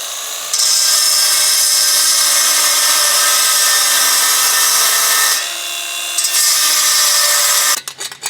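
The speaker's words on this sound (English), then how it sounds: "the easiest way to remove spot welds is with a little mini belt sander" A small mini belt sander grinds away spot welds on steel car brackets during a Mitsubishi Evo 8 restoration, a loud steady high-pitched whine running continuously with a brief dip midway before cutting off near the end.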